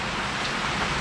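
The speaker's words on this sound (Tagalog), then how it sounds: "Lakas na yung ulan." Dense, heavy rain roars steadily, a thick wash of noise with no pauses.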